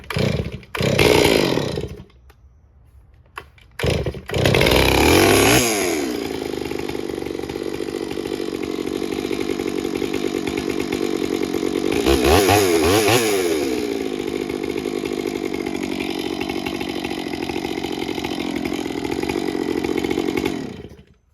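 A Stihl MS461 chainsaw on full choke sputters through a couple of short bursts, then catches and runs at a steady, loud, rough roar for about fifteen seconds before cutting off.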